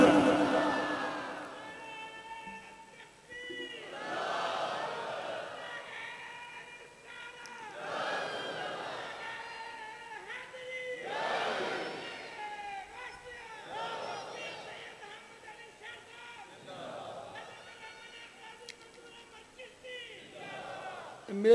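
Crowd at a Shab-e-Barat religious gathering chanting slogans in repeated bursts roughly every few seconds, a leader's call answered by many voices, echoing in a large space.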